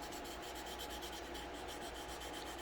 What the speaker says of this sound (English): we're going to wet sand with 4000 to polish out what we just did